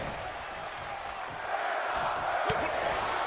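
A virtual arena crowd in the WWE 2K22 wrestling game, a steady, moderately loud roar of cheering that swells slightly midway, with a brief sharp impact near the end.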